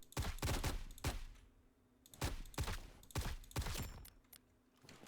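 Bursts of automatic rifle fire in the tactical shooter video game Blackhawk Rescue Mission 5 (BRM5), loud, sharp volleys in three clustered groups separated by short pauses, with no talking.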